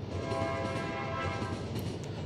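A train rolls along in the video game The Final Station, giving a steady, dense low rumble with faint tonal hum above it that holds evenly throughout.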